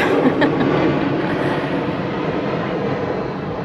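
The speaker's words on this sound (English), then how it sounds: "We'll let the airplane fly over." An airplane passes overhead outdoors as a loud, steady broadband roar that holds for several seconds, with no talk over it.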